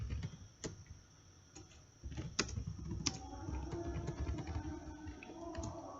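Typing on a computer keyboard while entering an IP address during a Cisco Packet Tracer routing setup: scattered single keystroke clicks, then a steadier run of taps over a faint electrical hum.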